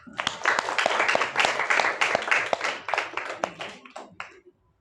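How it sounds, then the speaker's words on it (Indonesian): A classroom of students claps together in a loud, sharp round of individual hand claps. The clapping tapers off into a few scattered last claps before it stops. "Silakan duduk, tepuk tangan dulu."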